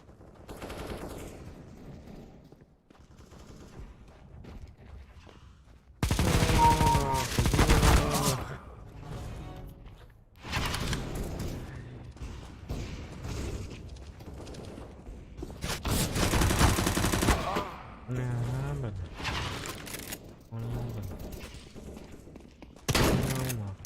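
Gunfire from a shooter video game comes in loud, dense bursts of rapid shots separated by quieter stretches, with occasional tonal game effects between volleys.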